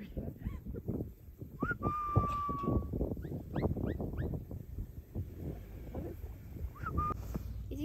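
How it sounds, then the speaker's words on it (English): A person whistles outdoors in Denver, Colorado to call a bird over, giving several short rising whistled notes between voices talking nearby. "You whistle."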